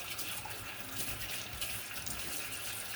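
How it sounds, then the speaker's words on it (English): Cold water pours from a tap over a chicken carcass being prepared as dog food, a steady, fairly soft rushing splash that continues evenly throughout without any voices. "I'm going to put some cold water over that"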